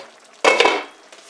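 Food in a pan on a home stove sizzles softly, then a utensil scrapes and stirs it in a short loud burst. A faint clink follows as it settles back to a gentle simmer.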